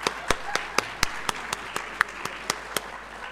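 Sparse, evenly spaced hand claps from an audience at a talk event ring out about four times per second, sharp and fairly close, over quiet background murmur.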